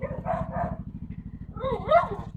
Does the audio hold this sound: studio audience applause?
no